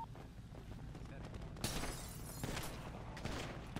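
Gunshots in GTA 5 roleplay, sharp bangs near 1.6 and 2.4 seconds amid a busy game mix, with voices talking underneath.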